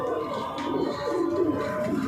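Pigeons of a racing loft coo softly in a low, rolling murmur close by, with faint background noise and no speech.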